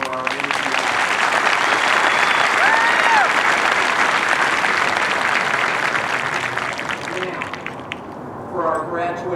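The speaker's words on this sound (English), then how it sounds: "So one more round of applause for our MTI." Large crowd at an Air Force Basic Military Training graduation parade applauding the instructors, loud dense clapping and cheering outdoors that swells then tapers, with a voice over the address system near the end.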